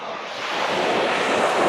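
Surf washing onto a sandy beach, with wind blowing across the microphone, making a steady broadband roar that swells slightly louder over the short stretch, with no voices.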